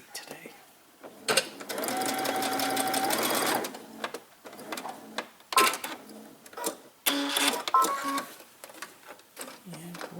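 A sewing machine stitches a quarter-inch seam in quick whirring bursts, with one long run near the start and shorter spurts later, while a voice talks in the pauses.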